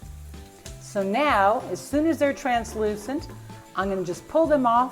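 Chopped vegetables sautéing in butter for a quiche, kept moving with a spoon until translucent, giving a soft continuous sizzle beneath a person talking throughout.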